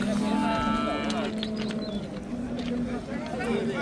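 A cow with her calf lows at a busy livestock market in Qiziriq, Surkhandarya, one drawn-out moo near the start amid crowd chatter and people talking nearby.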